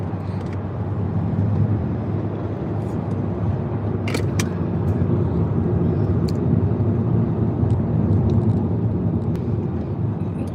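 A car drives along with a steady low engine and road rumble filling the cabin, constant throughout with a few faint clicks and no talking.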